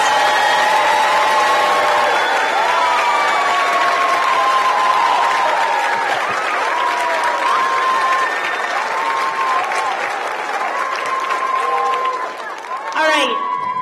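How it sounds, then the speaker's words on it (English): A school kindergarten celebration crowd gives long, continuous applause with some light cheering and chatter underneath, holding steady before fading out in the last seconds. "our kindergartners another big round of applause."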